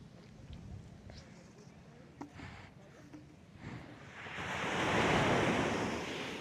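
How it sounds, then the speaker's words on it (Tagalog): Waves wash in with a soft background rush that swells into a louder surf crash toward the end; faint voices and wind noise appear early on. "Ganda ng ingay ng dagat."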